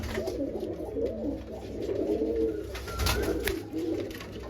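A pair of Madras pigeons coo in soft, continuous rolling murmurs close at hand, steady and without talk.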